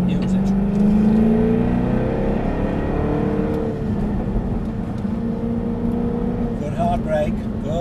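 A Jaguar car on a track roars with a steady loud engine drone that rises in pitch as it accelerates, and a person talks over it.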